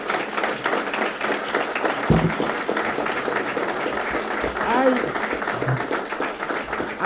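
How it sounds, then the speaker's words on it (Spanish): Audience applause at a Spanish-language book presentation on comparative federalism, steady clapping running through most of the stretch with voices talking over it. "Un aplauso, querido."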